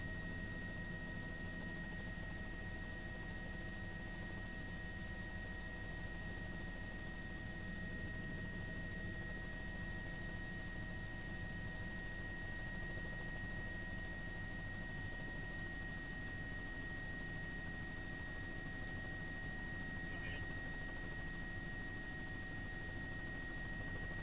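Helicopters flying over Oroville Dam at about 1,500 feet while laying electrical wire, a steady distant rotor drone held under a continuous engine hum for the whole span, with no voices.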